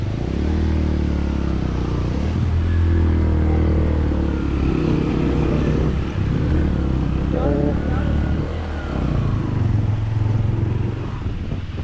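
A motorcycle pushing through a stream crossing on a mountain track from Upper Neelum to Kel in Azad Kashmir, its engine droning steadily and close with splashing and wind noise throughout.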